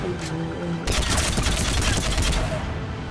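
Gunfire in the video game Mass Effect 3, a dense rapid burst of shots breaking in abruptly after a moment of quieter game sound and continuing loud and steady to the end.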